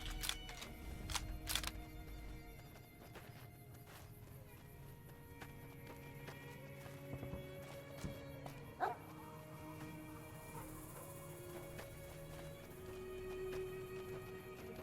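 Dog in Fallout: New Vegas barking amid game sounds, a few yips and woofs scattered through a busy, steady background of ambient tones and footsteps.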